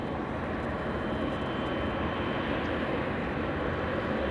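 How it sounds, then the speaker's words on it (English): A Boeing 777 airliner taxis northbound on a taxiway at LAX, its engines giving a steady, unbroken roar heard from a moderate distance, with no talking over it. "let's go to the 777. Taxiing northbound on Lima."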